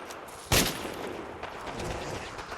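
Gunfire in Fallout 4 during a fight against baby Mirelurks: one loud, sharp shot bursts out near the start, followed by a dense, noisy game soundscape with further faint crackles.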